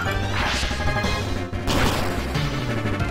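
Vine Whip attack in Pokemon HeartGold, heard as a loud, dense pair of whooshing, smashing hits about a second apart, with the game's music continuing beneath them.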